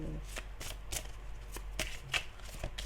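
Oracle cards are shuffled and drawn, giving a run of crisp, papery riffling bursts and soft slaps at an irregular pace, close to the microphone, with a faint voice underneath.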